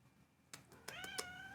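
A pet kitten meows indoors, a few short bursts rising into a longer drawn-out howling meow near the end, fairly quiet and close.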